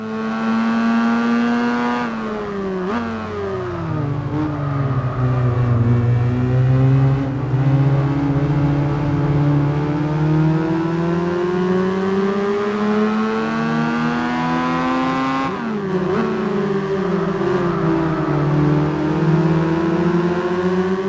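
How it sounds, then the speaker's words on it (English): Race car engines and tires in Gran Turismo 4 with the Mod Spec II mod, a loud, steady engine drone that rises and drops through gear changes, with two sharp shifts in pitch while the car holds speed. "the sound of the engines and tires, which has been significantly improved"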